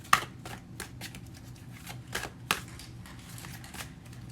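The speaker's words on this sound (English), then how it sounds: "I like to shuffle on camera if I can, so that you know that it's happening in real time" Tarot cards shuffled by hand make crisp, papery riffles and taps in an irregular rhythm, close and fairly quiet, with a few sharper snaps among the soft slides.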